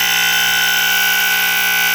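KF Industries Model 535 gas and smoke detector sounding its alarm, a loud piercing continuous electronic tone with dense buzzing harmonics, close and unbroken throughout.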